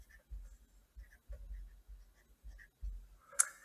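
A pen scratches across paper as electrical circuit values are noted down, a quiet, close scritching in short irregular strokes with brief pauses and a sharp tap near the end, with no voices.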